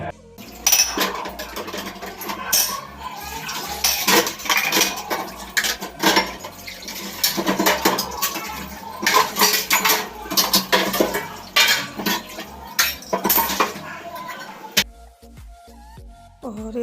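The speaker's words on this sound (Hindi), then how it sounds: "पहले बर्तन साफ़ करूँगी, उसके बाद मिलूँगी बर्तन धुलने के बाद।" Dishes, pots and cutlery being washed in a home kitchen in India, with loud, close, repeated clattering of steel utensils, clinks and knocks over running water, continuing steadily before stopping near the end.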